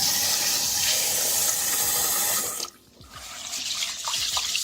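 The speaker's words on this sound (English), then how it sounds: "put water in it again." Water gushes steadily from a tap into a pot of rice, loud and close, with a brief pause midway before the pouring resumes.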